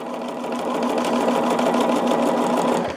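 A sewing machine runs a straight stitch through a quilt, a steady, fast mechanical whir with a rapid needle rhythm, close and continuous for about three seconds before it slows and stops.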